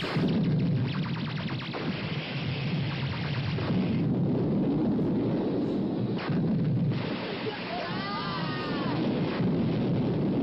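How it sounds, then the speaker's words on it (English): A film explosion destroys a building: a long, loud rumbling blast with rolling debris and crackling bursts that stays dense throughout, with people talking briefly over it. "Oh, the building is destroyed."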